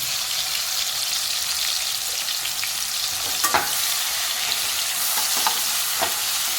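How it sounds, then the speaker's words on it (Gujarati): Cumin, tomato, garlic and green chillies fry in oil for a spinach curry, a loud continuous sizzle broken by a few sharp crackles and pops. "4 પડી જેવું તેલ નાખી દીધું છે જીરું નાખ્યું છે ટામેટા લસણ અને લીલા મરચાં"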